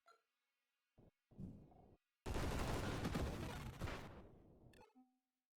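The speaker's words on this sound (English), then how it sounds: "Hit him with the blip blip. Railgun machine gun." Rapid automatic fire from a railgun-style machine gun in a video game, a dense sustained burst lasting a couple of seconds after a few short bursts, loud and close with no talking.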